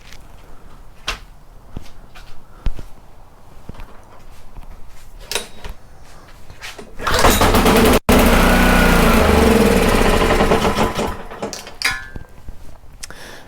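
A small pressure washer engine starts and runs loudly with a rough, rattling broadband roar from a loose bolt, after quieter clicks and knocks of handling; a brief cut splits the running sound.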